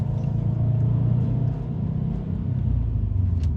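Subaru STI pulling away as the clutch is let out slowly, a steady low engine rumble heard from inside the car, holding fairly level with a slight dip midway before building again.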